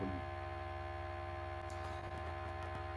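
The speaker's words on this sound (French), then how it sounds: "Le ventilateur fait beaucoup de bruit, le ventilateur est un peu pas très content" A computer fan running noisily, giving a steady, loud mechanical hum with a constant drone that stays even throughout, heard alone with no talking.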